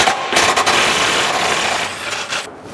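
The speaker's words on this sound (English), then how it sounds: "We're going to go ahead and remove this bolt here." A power tool with an 18mm socket grinds out a cross member bolt under a Jeep JL with a HEMI 392, giving a loud, harsh continuous whir that runs for a few seconds, then cuts off.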